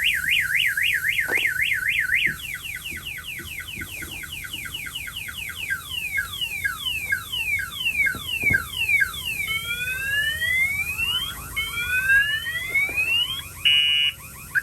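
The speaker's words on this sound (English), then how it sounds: "If somebody opens the door, obviously it's going to set off the alarm." An International LT truck's car alarm wails through a rapid cycle of siren patterns, warbling, rising and falling whoops and chirps, loud and continuous.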